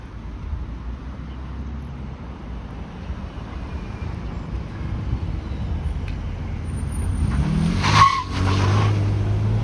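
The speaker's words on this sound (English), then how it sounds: "Wow, that car has squeaky tires." A car on a city street passes with its tires giving a brief high squeal near the end, heard over a steady roar of traffic.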